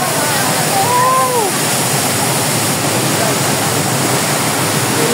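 Aliw Falls in Luciana, Laguna, swollen and muddy after rain, roars as a loud, continuous broadband rush of falling water that masks everything else, with faint traces of voices beneath.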